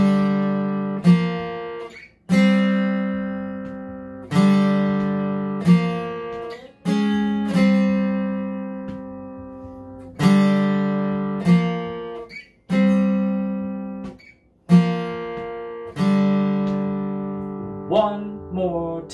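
A guitar plays a tab-reading lesson exercise: a steady run of single plucked notes, each ringing and decaying before the next, close and clear with no talking.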